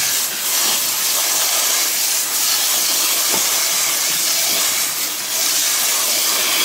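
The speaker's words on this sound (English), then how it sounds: "So I'm going to rinse the brown rice, but I'm going to rinse it as quickly as I can." Hot cooked brown rice is rinsed under running water to cool it, a loud, steady close hiss of flowing water throughout with a brief word spoken.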